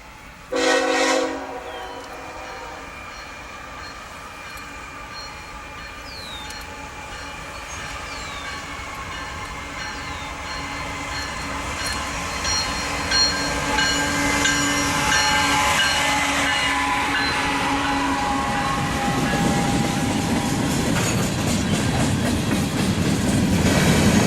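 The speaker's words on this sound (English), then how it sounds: "a K train came by with BNSF 6959 and 750." A train horn blasts nearby, then a BNSF-led freight train with locomotives 6959 and 750 rumbles past on the CSX Mohawk Subdivision, with rising rolling and clattering wheel noise that grows louder toward the end.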